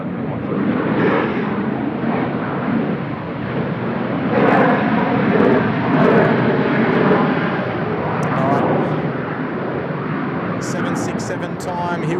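Asiana airliner taking off from runway 16 left at Seoul Incheon Airport, a broad steady engine roar that swells in the middle and stays loud throughout, heard from a distance with faint chatter near the end.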